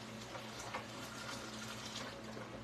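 Hot noodle cooking water being poured out over a kitchen sink, a continuous gushing splash with a low hum underneath, close and steady for a few seconds.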